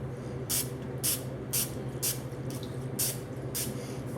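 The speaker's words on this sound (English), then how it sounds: "spray that O-ring so it's lubricated as it goes into the piston." Cooking oil spray is misted onto an O-ring before it goes into the piston of a sausage stuffer, making a series of short, faint hissing bursts at an even pace over a low hum.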